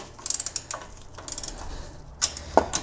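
A hand ratchet tightens the top nut during a 2-inch lift install on a third-generation Toyota 4Runner, giving bursts of rapid close clicking in several separate runs, with no talking.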